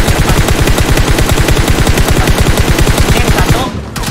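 Sustained fully automatic gunfire in PUBG Mobile: a loud, close, evenly spaced stream of rapid shots running nearly four seconds before cutting off and fading.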